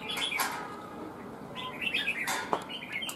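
A red-whiskered bulbul (chào mào) gives bright chirping calls in short bursts, fairly close, with a few brief pauses between phrases and a faint background hiss.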